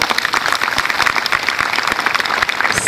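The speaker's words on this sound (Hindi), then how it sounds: "ताली तो बजा दो" An audience claps at a spiritual celebration gathering, dense rapid applause filling the hall at a steady loud level from start to finish, with no talk over it.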